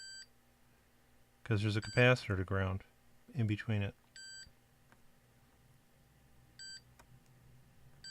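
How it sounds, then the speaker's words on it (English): A multimeter continuity tester gives short electronic beeps in brief bursts at the start and again toward the end, while testing an Elecraft K2 radio kit, with someone speaking briefly between them. "it beeps and stops because there's a capacitor to ground."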